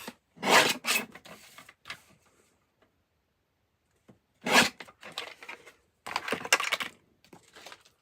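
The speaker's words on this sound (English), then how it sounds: "So let's trim this down to 5 1/2." A paper trimmer slices a card blank down to size, giving short rough scraping strokes close up, two bursts separated by a silent gap, then a longer rasping pass.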